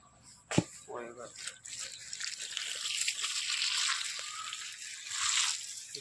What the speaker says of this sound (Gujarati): હમણાં પાણી ચાલુ કરી દીધું છે.